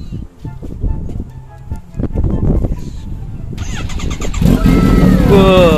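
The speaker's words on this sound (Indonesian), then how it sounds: "Kita mau dengerin suaranya nih dari deket," A Kawasaki H2 motorcycle engine rumbles close by and rises into revving, with people talking over it throughout.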